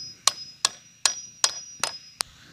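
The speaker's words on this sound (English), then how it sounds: "we're going to pound them into our 1/2 inch holes" Six sharp metallic hammer strikes drive rebar into half-inch holes in 2x4s, evenly spaced at close range with bright ringing tones and quiet gaps between blows.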